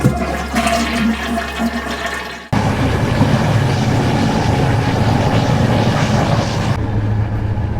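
A toilet flushing aboard an Intercity Notte night train from Milan to Sicily: a sudden loud whoosh of rushing water that cuts in after a low rumble and holds strong for several seconds before the tail thins out.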